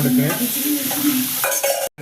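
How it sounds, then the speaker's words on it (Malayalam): Onions sautéing in a pan for chatti pathiri with chicken filling, with a close, steady sizzle and repeated scraping stir strokes, ending in a brief silence. "ഉള്ളി ഏകദേശം നല്ല വാടി വരുന്നുണ്ട്"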